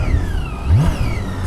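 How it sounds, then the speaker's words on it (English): BMW 1600 GT motorcycle engine whining while being ridden, a loud steady drone with rising and falling pitch sweeps, close and continuous with wind rumble underneath. "You hear that thing? Zzz, zzz, wee. It's like whining."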